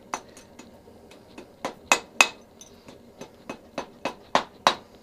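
A blacksmith strikes bent metal closed with a hammer, about a dozen sharp metallic blows at an uneven, quickening rhythm. They start softer and grow louder and ringing toward the end, close by and with no talk over them.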